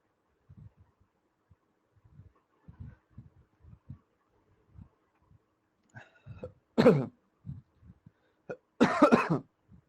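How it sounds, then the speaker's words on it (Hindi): Two sharp coughs ring out near the end, following quiet scattered low thumps and shuffling, with no talking. "खांसी फिर आ रही है आज?"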